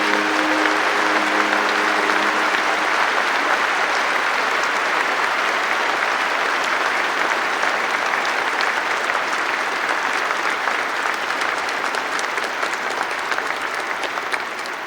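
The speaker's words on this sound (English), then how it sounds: "please join me in a round of applause for the next generation of young Canadians" Sustained audience applause fills a Remembrance Day ceremony in Saskatoon, a dense, steady clapping from a large crowd that continues loud and unbroken throughout, with no speech over it.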